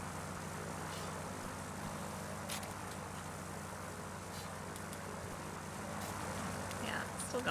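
A propeller plane's engine drones steadily in the video game Kentucky Route Zero, a low continuous hum, quiet and unchanging over several seconds, with faint scattered noises on top.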